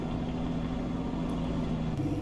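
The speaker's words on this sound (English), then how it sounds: "It's quite noisy, this truck." A noisy truck engine in Farming Simulator 19 runs at a steady, continuous drone with a strong low-pitched rumble and no pauses.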